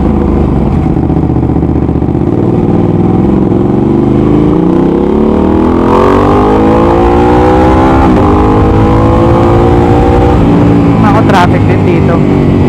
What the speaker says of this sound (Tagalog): Traffic din dito.